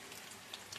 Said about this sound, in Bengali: বড়া ভাজতে ভাজতে দেখো বৃষ্টি চলে এসছে